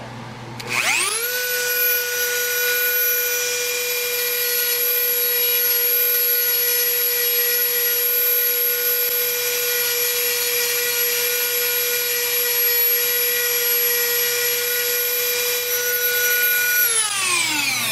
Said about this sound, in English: I'm going to get my Dremel out and sand those off. Okay, I've got a little grinding stone here.